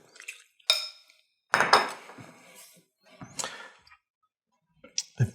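A fork clinks and scrapes against a dish while stirring deviled crab dip, in a few sharp, separate bursts with quiet gaps between them.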